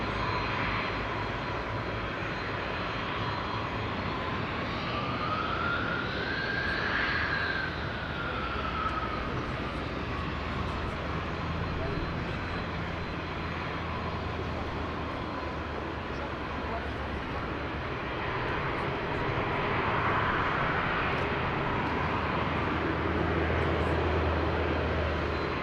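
Aircraft engine noise at Madeira Island Airport as the Medic 50 aircraft taxis toward a landing point to cross runway 05, a steady loud drone throughout with a rising and falling whine near the middle, radio talk over it.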